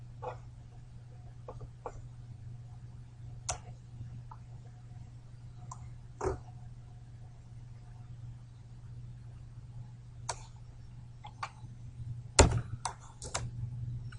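Sparse, quiet keystrokes on a computer keyboard while code is entered, scattered single clicks with a brief flurry of quick taps near the end over a low steady hum.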